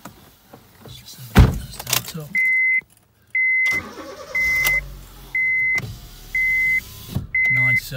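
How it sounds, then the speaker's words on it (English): Front and rear electric windows on a Honda Jazz 1.4 i-DSI SE run with a whirring motor hum inside the car, punctuated by a run of six steady electronic beeps and occasional clunks. "Front and rear electric windows"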